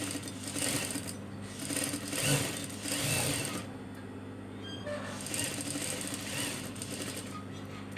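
A sewing machine stitches a hospital nurse uniform, running in a steady continuous whir for the whole stretch with small pauses and shifts in pace, close and moderately loud with no talk.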